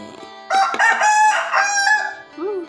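A rooster crows loudly and close by, one drawn-out cock-a-doodle-doo with harmonic, strained notes, followed by a brief softer call.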